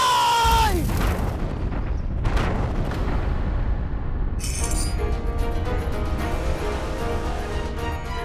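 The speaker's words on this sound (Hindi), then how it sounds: "महारानी साहिब, ये तो तोप के चलने की आवाज है।" Cannon fire booms in a historical battle scene, heavy deep blasts rolling over one another with a dense rumbling wash, loud and close, followed by a sustained roaring din and a faint high tone.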